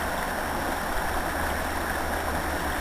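Steady rushing flow of the River Carron through a shallow run below a pool, broad and constant without a break, close and fairly loud, no voices.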